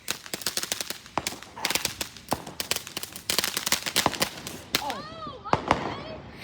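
Fireworks go off in rapid, sharp crackling bursts and booms, close and loud, with overlapping volleys. Whistling, rising tones follow near the end, and people's voices can be heard at times.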